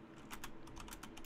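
Rapid typing on a computer keyboard, a steady run of light clicky keystrokes with short bursts and pauses, fairly close over a faint constant background hum.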